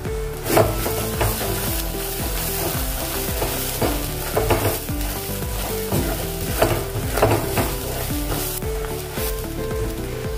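Steady loud sizzling of green chillies frying in a pan with onion and dried red chillies, with occasional scraping and stirring sounds, close and continuous throughout.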